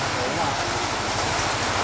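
Steady rain falls in a dense, even hiss, with a low rhythmic pattering underneath; it sounds fairly close and continuous throughout.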